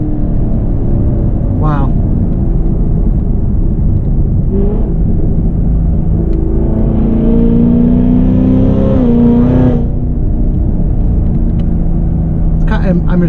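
A 2016 Cadillac CTS-V's engine drones loud and close as it accelerates under throttle, the pitch climbing steadily in a sustained pull, with a voice briefly exclaiming over it.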